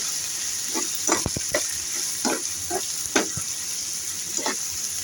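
Chicken curry masala frying in a pan gives a constant close sizzle, broken by repeated short scraping strokes of a utensil stirring the pieces, with no voices.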